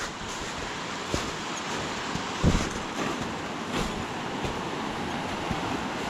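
Creek water rushing at a trail crossing in Yosemite, a steady broadband wash close by, with a brief bump of wind or handling noise midway.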